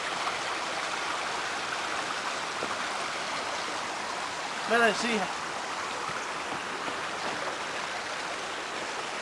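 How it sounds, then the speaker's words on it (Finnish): A flowing brook in Viikki gives a steady, close rushing of water that lasts throughout, with a short spoken phrase partway through. "No niin, täällä on puro."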